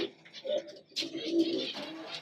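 A racing pigeon that has flown fourteen hours coos in several soft, throaty phrases at close range, with brief pauses between bursts and no one talking.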